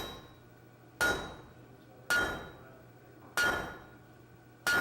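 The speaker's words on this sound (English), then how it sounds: "That was definitely a power hammer." A power hammer forging metal at a blacksmiths' conference, striking four heavy, ringing blows at steady intervals of about a second, each ringing out and fading before the next.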